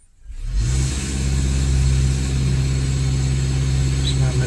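2014 Honda Accord with a misfire idling while warming up, a steady mid-pitched engine hum that fades in within the first half second and then holds level and close.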